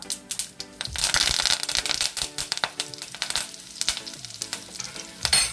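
Mustard seeds and curry leaves hit hot oil for a Kerala moru curry (spiced buttermilk curry), setting off a loud, close, crackling sizzle full of rapid popping bursts that carries on throughout.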